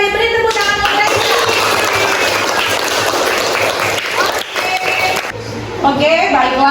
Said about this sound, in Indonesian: Beri tepuk tangan untuk Raisa